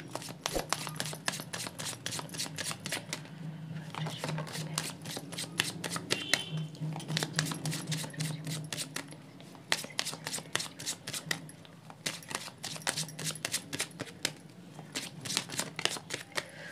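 Tarot cards being shuffled and drawn by hand during a reading, a long run of rapid papery riffles and flicks with short pauses, close and steady at a moderate level, with no talking.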